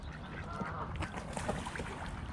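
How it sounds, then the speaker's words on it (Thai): Ducks quack repeatedly in short, scattered bursts, fairly close, over a faint outdoor background with no talking. "นู่นเป็ดมาแล้วเว้ยเป็ดมาแล้ว"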